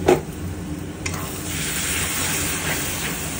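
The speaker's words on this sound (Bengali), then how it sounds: "ভালো করে এখন ভাজা ভাজা করা হচ্ছে মশলাটা দিয়ে, সর্ষে পোস্তটা দিয়ে" Spice paste of mustard and poppy seed frying in oil for a Bengali steamed prawn dish in taro leaves, a steady close sizzle with stirring scrapes throughout, with no talking.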